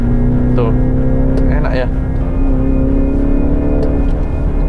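A Mini Countryman's engine hums steadily from inside the cabin as the car pulls forward, its tone holding fairly even, while people chat over it.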